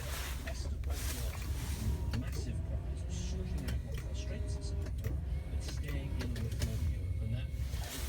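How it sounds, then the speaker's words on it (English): Electric mirror motors whirring on a 1990 Rolls Royce Silver Spirit, faint mechanical hums and clicks close by under a steady low rumble, with a voice talking over them. "Electric mirrors all working."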